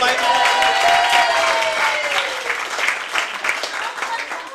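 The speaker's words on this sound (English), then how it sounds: "Can we have a round of applause for my son?" A comedy club audience at Broadway Comedy Club claps for a comedian's son, the applause loud and sustained with faint voices mixed in.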